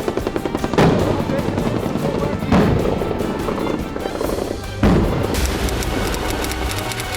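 Rapid gunfire during a Taiwan military live-fire drill: loud, fast repeating shots with heavy bursts recurring about every two seconds, close and continuous throughout.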